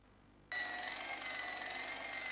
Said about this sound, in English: I saw the source of the hellish noise which echoed through the corridors. It was an industrial polishing machine